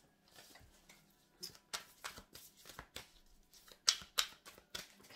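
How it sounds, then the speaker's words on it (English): Matte-finish tarot cards being shuffled by hand, giving a series of soft riffling and slapping bursts in uneven clumps, close and fairly quiet, with no talking over them. "the matte cards are a bastard to shuffle"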